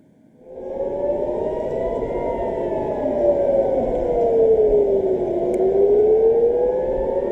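Air raid sirens over Jerusalem and Tel Aviv wail loud and steady, their tone slowly rising and falling as they sound alone, with no voices.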